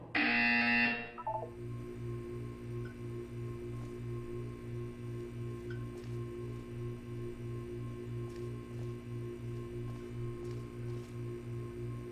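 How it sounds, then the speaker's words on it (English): A loud electronic buzzer in the video game Portal 2 blares for about a second, followed by a low, steady pulsing tone repeating rhythmically against a faint background hum. "When you hear the buzzer, look down at the floor."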